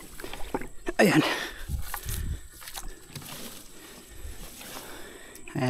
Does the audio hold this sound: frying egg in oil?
no